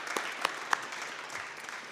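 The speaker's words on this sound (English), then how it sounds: "Let's give them a round of applause and thank them again." Audience applause at a community speaker series evening, a short burst of clapping from a seated crowd with a few sharper individual claps standing out, fairly quiet and even throughout.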